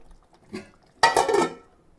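Metal pan and utensil clatter while a few pieces of leftover fish curry are reheated, a soft scrape followed by a louder burst of stirring and clinking close by.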